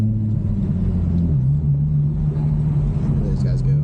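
An Infiniti G35 fitted with a race exhaust in a video game, a deep steady engine drone with a low rumble that dips slightly and then holds, playing loudly and continuously.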